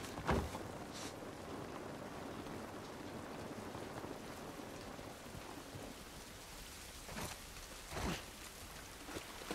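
Steady rain falls throughout a rainy outdoor scene in the video game The Last of Us Part I, a dense continuous hiss with a couple of brief louder thumps near the start and end.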